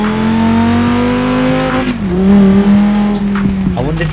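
A V10-powered Quadro V-Tech in Forza Horizon 4 revs loudly up and down through its range, its droning engine note rising and dipping with brief tyre squeal.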